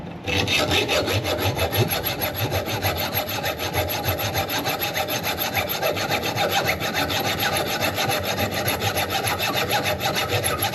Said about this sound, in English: So we're going all the way around, cutting it on an angle.